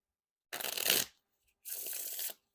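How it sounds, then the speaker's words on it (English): Slicers v1 playing cards being riffle shuffled, two distinct crisp bursts of rapidly flicking cards, the first louder and the second steady, close and with no voices. "Pretty smooth Riffle Shuffles."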